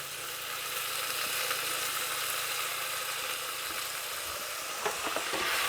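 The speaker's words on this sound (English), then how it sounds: "I'm going to very quickly put the mince in and just very lightly seal it" Minced meat sizzles steadily in a hot pan with tomatoes as it is lightly sealed, a close, even frying hiss throughout, with a couple of faint stirring knocks near the end.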